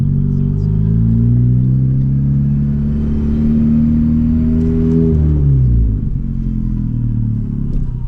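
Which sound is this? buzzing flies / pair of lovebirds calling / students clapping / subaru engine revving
subaru engine revving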